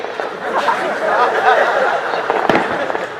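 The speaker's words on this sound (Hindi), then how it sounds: "पटाखों के बीच में" Firecrackers crackle and pop in a dense, continuous burst with one sharper bang during a religious gathering, while a crowd chatters and laughs underneath.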